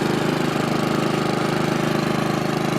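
The Honda GCV 390 engine of a hydrostatic garden tractor lawnmower runs close by with a steady, rapid, pulsing chug and no other sound.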